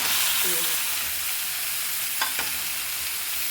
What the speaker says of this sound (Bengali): আমি একটু শাপলাটা কষায় নিচ্ছি মশলার সাথে